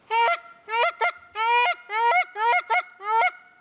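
A person imitates a goose with the voice, giving about seven loud nasal honks in quick, uneven bursts, close and alone.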